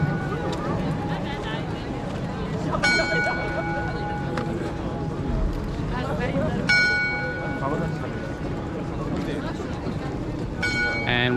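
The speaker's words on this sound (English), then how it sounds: "And we've got some more chiming going on." Prague's Astronomical Clock chimes above a busy square, with a few ringing bell strikes spaced seconds apart over constant crowd chatter and street noise.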